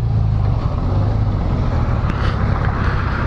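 A 2018 Honda Gold Wing motorcycle in sport mode pulls hard under throttle, a loud continuous low engine roar with steady wind rush across the whole stretch, no voices over it.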